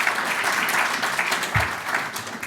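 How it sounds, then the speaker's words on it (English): An event audience claps in a dense, continuous wash of applause at an honoree celebration, fairly loud and steady throughout, with no distinct voices standing out. "we can clap for that."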